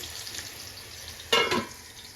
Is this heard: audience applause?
no